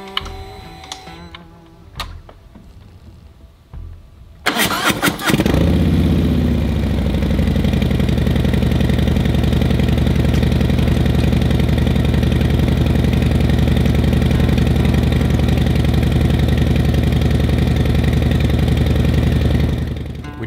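A 2023 Harley-Davidson Low Rider S fitted with a Vance & Hines exhaust fires up after some clicks and quiet, then idles with a loud, steady, throbbing rumble close by until the end.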